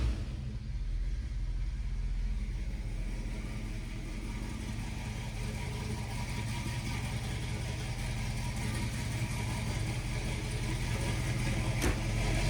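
A 1969 Ford Mustang Fastback idles with a steady, deep rumbling engine note, close and continuous, with a faint click near the end.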